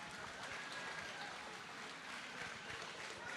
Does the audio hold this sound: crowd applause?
yes